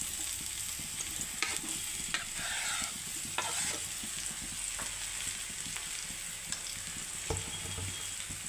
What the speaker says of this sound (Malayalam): നമുക്കതിനെ ചെറിയ തീയിലിട്ടൊന്ന് ചെറുതായിട്ടൊന്ന് മൊരിയിച്ചെടുക്കണം.